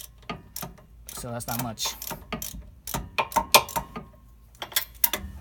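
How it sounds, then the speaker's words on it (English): Socket wrench ratcheting on a rear brake caliper bolt of an ND Miata, with short clicking ratchet bursts in a limited swing, heard close up between and under a man's speech. "there's only about 35 degrees of swing on the socket wrench"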